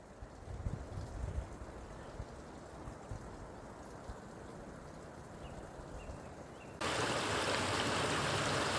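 Water from a stream near Saint-Chély-d'Aubrac on the Aubrac plateau rushes as a steady, soft broadband wash, growing abruptly louder near the end.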